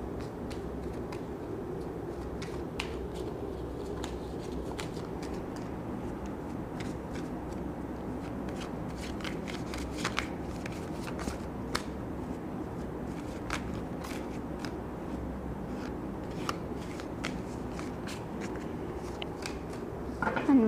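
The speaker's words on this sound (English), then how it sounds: "One more shuffle." Tarot cards being shuffled by hand, a soft continuous riffle of papery clicks and flutters, quiet and close, with no talking.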